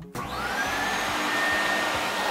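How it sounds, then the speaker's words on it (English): Vacuum pump of a screen-printing UV exposure unit switching on with a click, then a loud, steady whining drone that holds close and constant. "It's very loud. There's a vacuum holding the screen inside so it won't move."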